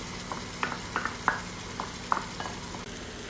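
Spice-mixed yogurt poured onto dough in a pot and stirred for an Indian biryani, giving soft wet scraping strokes in a loose irregular rhythm over a faint background hum.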